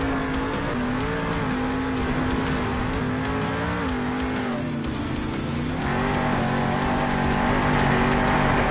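A monster truck engine roars steadily at a Monster Jam freestyle show in Salt Lake City, its sustained growl rising and falling through revs for several seconds, loud and close, with arena noise behind it and no talking.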